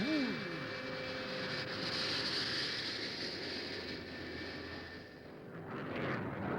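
A fixed-wing airplane roars steadily overhead, a loud continuous engine drone with a faint rising whine, holding level before easing slightly near the end.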